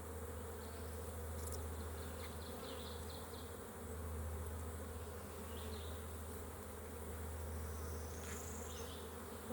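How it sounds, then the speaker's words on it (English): Honeybees crowd hive frames in a continuous, low buzzing swarm that swells and eases slightly, with a few sharper passing buzzes of individual bees flying close. "Lots of bees again on this one."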